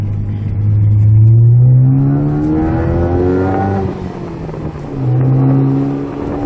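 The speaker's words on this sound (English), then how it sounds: "You can just hear that gorgeous exhaust that it does have." A Ford Focus ST's exhaust revs loudly up and down, a deep throaty roar that climbs in pitch, dips briefly, then surges again.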